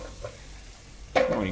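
Fish curry, kari ikan tenggiri, is stirred in a pan with a soft scraping and low sizzle, then a sudden louder burst of frying as something is added, close by.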